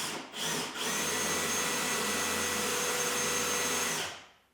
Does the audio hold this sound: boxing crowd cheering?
no